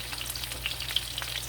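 Steak searing in a hot pan gives a steady, close sizzle with small pops and crackles throughout, with no talking.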